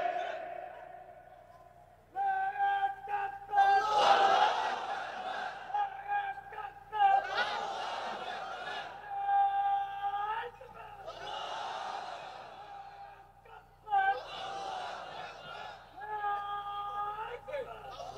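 A crowd at a religious sermon gathering shouting a slogan in loud, repeated chanted bursts, with a leader's voice and the mass response alternating in rhythm.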